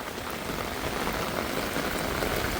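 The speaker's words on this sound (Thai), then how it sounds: "ถือว่าเป็นครั้งแรกของปีก็ว่าได้ ที่ฝนตกแรง" Heavy rain pours down steadily at a rural home in the Thai countryside, a dense, even hiss of drops close by with no talk.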